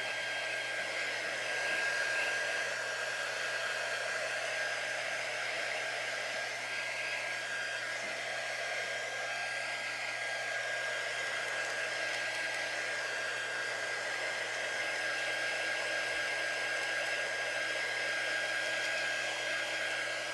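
A hair dryer runs continuously at close range to dry off a freshly cleaned item, a steady, even whirring blow with a faint high whine and no pauses or talking.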